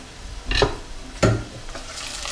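Ginger, onion and garlic being stirred in a frying pan, with two scraping strokes of a utensil over a low steady sizzle, close up and with no voices.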